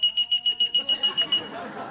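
A household alarm blares in a rapid run of sharp, evenly pulsed high beeps, about nine in quick succession, loud and close, then cuts off into quiet room noise.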